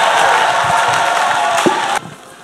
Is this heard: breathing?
no